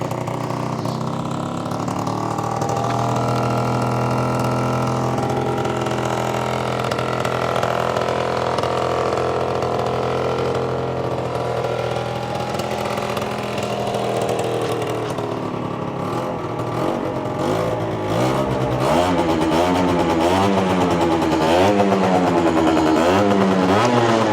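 A winter-stored Aprilia SR 50 scooter engine runs on its own, a buzzy two-stroke idle holding steady before being revved in quick rising and falling bursts toward the end, loud and close.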